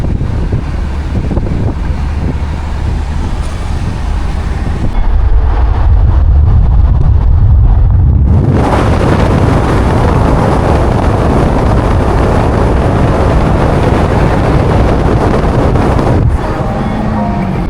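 A convertible cruising at about 75 mph in the rain, with the top sealed, gives off a loud, steady broadband roar of wind and road rush that swells noticeably halfway through and then holds constant.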